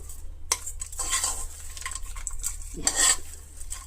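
Cooled mint and curry leaf chutney ingredients with dry red chillies are tipped and spooned into a small mixer jar, giving clinks, scrapes and soft clatters of utensil against metal over a few seconds, with no talking.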